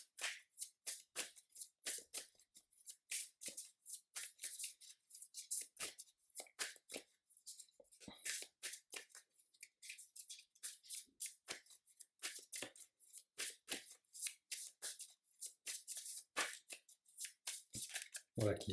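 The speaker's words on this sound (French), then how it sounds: "Je remélange le deck rencontre." A deck of cards for a Marvel Champions card game being shuffled repeatedly by hand, quiet rapid riffles and flicks in irregular bursts over about nineteen seconds.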